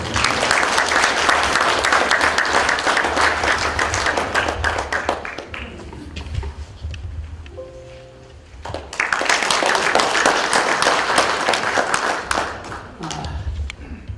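An audience at a 2018 Los Angeles New Year ceremony gives loud, sustained applause to welcome a speaker. The clapping briefly thins midway, then swells again before fading.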